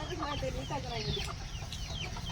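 Chickens cluck in short, scattered bursts over a steady low background hum, fairly close and moderately loud.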